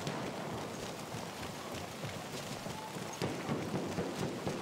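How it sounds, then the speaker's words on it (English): Rain in the WWI shooter Battlefield 1, a steady broadband hiss of downpour over muddy trenches, with faint scattered thuds and rustles beneath, continuous and moderately loud throughout. "Digital Illusions Rain system is really coming out nicely here."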